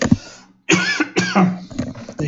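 A person coughs hard several times in a row, close and loud, with brief pauses between the rough bursts.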